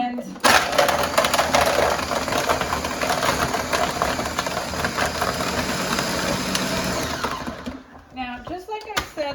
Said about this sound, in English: The Ninja blender is good and quick for blending ice.